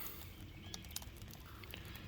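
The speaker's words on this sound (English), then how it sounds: "it's still raining. But it ain't raining hard." Faint, light patter of raindrops with scattered soft ticks and taps, quiet and outdoors, without any speech.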